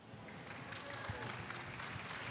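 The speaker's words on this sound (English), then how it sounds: "So big round of applause." An audience at a Bangkok blockchain builders' meetup applauds in a steady, even wash of clapping that sounds faint and somewhat distant, with possible voices mixed underneath.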